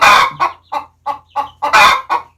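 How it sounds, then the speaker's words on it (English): A hen clucks loudly and insistently nearby after laying an egg, a burst of sharp, repeated squawks in an uneven rhythm, with no one talking. "Did you just lay an egg? You sure are noisy."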